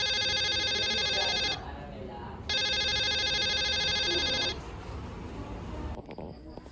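A telephone rings with two long electronic trills separated by a pause, loud and close, followed by quieter room tone and a brief click as the line picks up.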